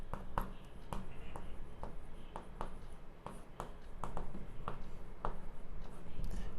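Chalk or marker writing on a board during a biology lesson, a series of short tapping and scratching strokes in an irregular rhythm over a steady room hum, close by, with no speech.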